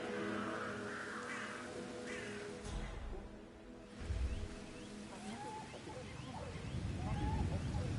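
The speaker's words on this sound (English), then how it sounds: "Damn birds!" Crows cawing in the Hitman 3 video game, a few harsh calls over a steady ambient bed with water-like background noise, moderately near.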